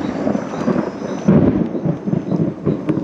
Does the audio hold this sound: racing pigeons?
no